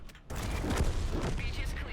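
Battleship artillery barrages pound the battlefield in World of Tanks during an Operation Overlord match, a dense, loud rolling stream of overlapping blasts and rumbling booms that starts abruptly and continues without pause.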